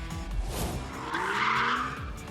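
BMW M2 driven hard on a track, tyres squealing in a loud drawn-out skid while the engine note rises and falls beneath, close and without talk.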